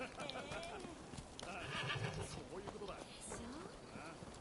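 A horse in the video game Rise of the Ronin whinnies while its hooves clip-clop steadily, with voices talking over the game sounds throughout.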